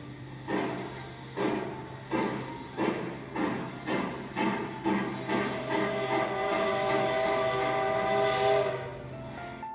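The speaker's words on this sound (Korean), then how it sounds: "미카형 증기기관차 모형에 다가서면 기적 소리가 울려 퍼집니다." A Mikado-type steam locomotive model in a railway museum gives off a series of rhythmic chuffing puffs that speed up, then a sustained whistle blast rings out over them, moderately loud and close.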